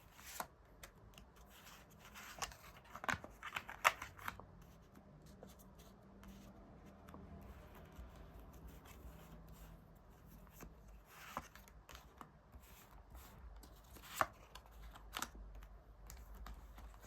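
Tarot cards are shuffled by hand close up, making soft, faint riffling rustles and light taps scattered over a quiet room.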